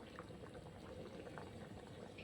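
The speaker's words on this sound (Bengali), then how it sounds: "আমার ঝোল দেখো ফুটেই আসছে অনেকটাই" Curry broth bubbles at a steady, faint boil in a pot, with continuous soft gurgling and popping close by.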